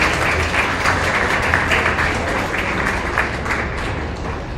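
Steady, sustained applause from an audience at a county fair cattle show, a dense wash of many hands clapping at an even level throughout.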